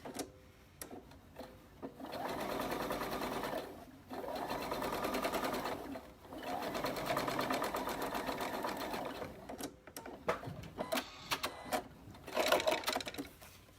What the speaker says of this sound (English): Let me go ahead and stitch down that end.